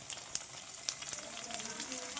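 Puri frying in hot oil for homemade pani puri, a soft steady sizzle with faint crackling pops, close and quiet throughout.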